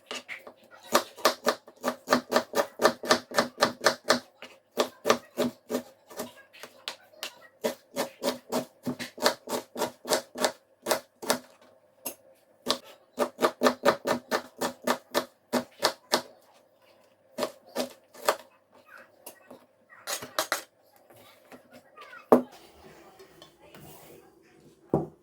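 A knife chops onion into small squares on a cutting board, giving rapid rhythmic knocks in quick runs with brief pauses between them. The chopping is crisp and close, and a faint hum sits underneath.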